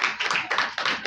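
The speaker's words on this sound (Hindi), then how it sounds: "मेरी पहली तालियां बजा दो" Small church group clapping during a Bible lesson on Psalm 91: a brief, quick run of four or five rhythmic hand claps, close and fairly crisp.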